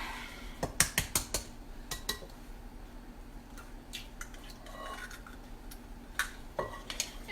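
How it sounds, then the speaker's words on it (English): An egg cracked into a bowl holding a cup of milk: a few sharp close taps and clicks, then soft drips and faint rustling, quiet with no talking. "I'm going to crack an egg."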